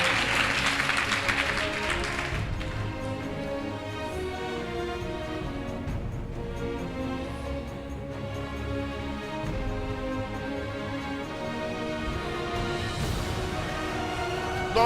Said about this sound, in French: Donne l'acclamation à Jésus